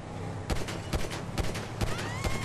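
Gunfire in GTA V, a rapid run of sharp shots spaced about half a second apart, loud and close, with no voices over it.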